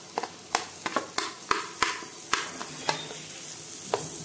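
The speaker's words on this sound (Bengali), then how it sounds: "এরপর আমি একটু নেড়ে নিচ্ছি" Ginger-garlic paste, spices, chopped tomato and chilli frying in hot oil for a pointed gourd and prawn dish, stirred with about a dozen sharp regular spatula clinks over a steady low sizzle, close by.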